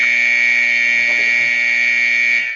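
A loud, steady electronic horn blares continuously to end an NHL hockey game between Boston and Carolina, a harsh tonal buzz that holds for a few seconds before cutting off.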